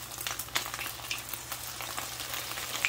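Coconut shrimp fry in very hot oil with a steady, close sizzle and scattered crackling pops that carry on without any talk.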